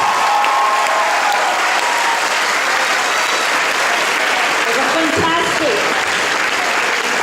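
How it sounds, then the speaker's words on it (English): Sustained applause from an audience saluting the performers at a 2016 boys' Shakespeare competition final awards ceremony, a dense steady wash of clapping with crowd noise throughout and a brief voice near the end. "Can we give one big round of applause to all the performers for tonight?"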